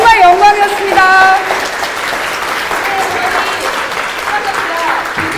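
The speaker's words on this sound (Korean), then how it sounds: "마지막으로 박수 부탁드릴게요" Applause from a company in-house lecture audience thanking a speaker after a talk of more than an hour, steady clapping heard alongside a speaking voice and some musical tones.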